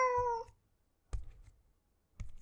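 A cat in the Ib remake video game gives one clear, clean meow, followed by two soft thuds in otherwise quiet surroundings.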